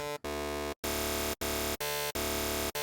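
A loud, bright, buzzing sawtooth synth tone from Arturia Pigments plays in several sustained bursts separated by short gaps, harsh and rich in overtones.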